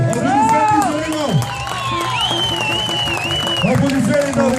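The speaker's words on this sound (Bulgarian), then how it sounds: "Аплодисменти за него!" Audience applause and cheering with whoops for a participant in a memorial game show event, loud and continuous, mixed with music and an announcer's voice over the crowd.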